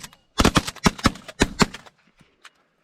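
Shotguns fire at pigeons during a hunt, a fast volley of about eight loud, close blasts over roughly a second and a half, followed by faint rustling.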